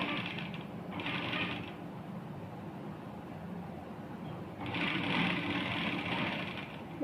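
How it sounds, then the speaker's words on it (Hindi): An electric sewing machine runs in bursts of steady whirring as it stitches along the edge of a salwar, stopping and restarting, close and moderately loud with no voices. "तो सबसे पहले आपको नीचे किनारी किनारी एक पक्की सिलाई लगानी है।"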